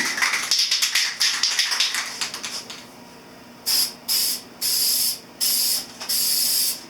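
Automotive enamel gloss coat is sprayed from a wide-fan aerosol onto the front fender of a 1983 Honda CB1000 custom, with a rattle of quick taps first, then five sharp, close hissing bursts separated by short gaps.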